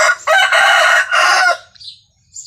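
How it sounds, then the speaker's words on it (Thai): Rooster crowing loudly and close by in a long, drawn-out call of three strained bursts, followed by a brief fainter note and a short chirp. "มีเสียงไก่นะคะ"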